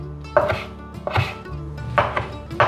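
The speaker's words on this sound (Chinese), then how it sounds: "把豆包切成条状" A knife cuts fresh tofu skin into strips on a board, making four crisp, evenly spaced chops close by, each a short thud with a little ring, and no one speaks.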